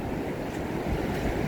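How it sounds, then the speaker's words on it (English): Ocean waves break steadily on a wind-swept beach near a city, a continuous close roar of surf with gusty wind buffeting the microphone and no voices. "the waves, as that wind picks up, they clean up a bit"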